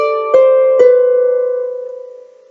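Plucked harp strings ring out in a short new passage: a sustained low tone, then two more plucked notes struck in quick succession, all left to decay slowly and fade over a couple of seconds, solo and close.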